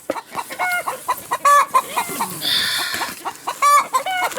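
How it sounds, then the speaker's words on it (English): Several newly delivered chicks cluck and squawk close by in short, irregular bursts, with one rising call standing out; no talking. "Unbelievable chickens."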